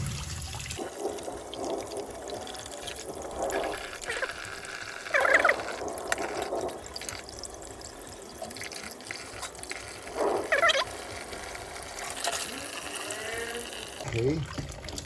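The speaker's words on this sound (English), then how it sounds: "so under the running water" A tap runs steadily into a sink while a painted black tile is washed and scrubbed with a magic eraser, with splashing surges and faint voice-like sounds under the water.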